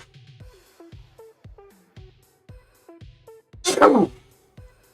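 One sharp, forceful sneeze, close to the microphone and loud, bursts out near the end of a quiet stretch of short, faint rhythmic clicks and thuds during a miniature painting and hobby stream.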